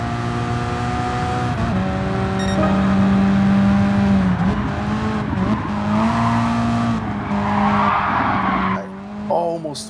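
Race car in Gran Turismo Sport screeching through a corner under late braking, loud sustained tire squeal and skidding over a steady engine drone, with brief engine shifts and a rising rev near the end.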